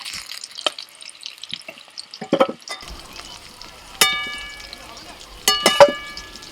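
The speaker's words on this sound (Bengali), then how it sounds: "চন্দ্রমুখী আলু ভাজতে ভাজতে আলু সিদ্ধ হয়ে গেছে" Chandramukhi potatoes fry in a karahi while being stirred, with scraping and clattering against the pan, a soft sizzle underneath, and two sharp metallic clangs toward the end.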